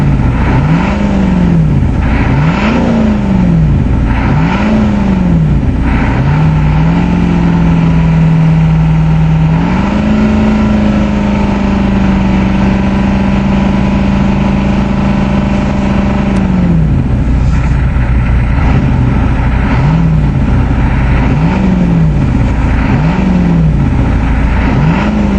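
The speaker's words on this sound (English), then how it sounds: "The timing advance is also stuck on, that's why it's really clattery." A 6.9L diesel motorhome engine clatters loudly at idle after a cold start in snow, its timing advance stuck on, with a steady close knock and rhythmic revs rising and falling, then a long held higher-speed stretch before dropping back.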